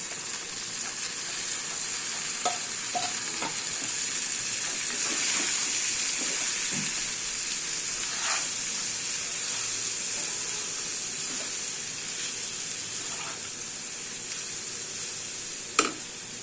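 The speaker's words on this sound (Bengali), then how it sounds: "এবার এতে চিড়েগুলো দিয়ে দিচ্ছি।" Washed flattened rice (chira) cooking in a pan for pilau-style chira, giving a steady, close hiss of frying and sizzling with occasional clicks and stirring scrapes, no talk.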